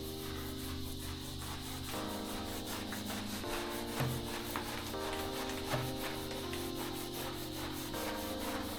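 A brush loaded with degreaser scrubs steadily at a mud dauber nest, giving a continuous close, rasping rub with small irregular strokes and a faint steady hum underneath.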